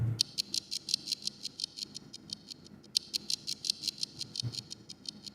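A clock sample treated with EQ, delay, reverb and panning ticks in a steady, rapid stream of bright clicks that sweep from left to right, softly recessed and echoing, with no talking.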